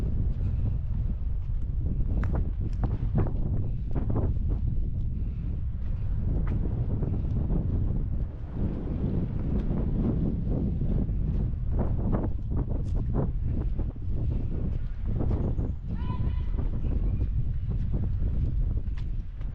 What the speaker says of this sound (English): So windy, I guess.